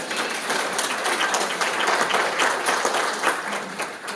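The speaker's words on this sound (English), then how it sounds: "can we give a round of applause to Christine" Audience applause at a lunch plenary panel, a loud, continuous burst of many people clapping at once with no voices over it.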